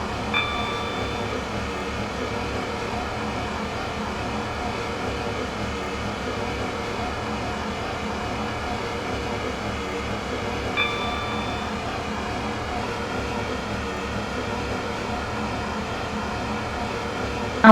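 Simulated R132 metro train from the game SCR running steadily, a continuous even rumble and hum of motors and wheels with no talking, broken only by a faint brief tone near the end.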